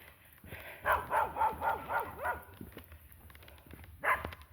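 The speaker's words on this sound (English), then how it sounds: "Puppy dogs are all out this morning." A dog barks six times in a quick, steady run, then once more after a short pause, fairly close against a quiet outdoor background.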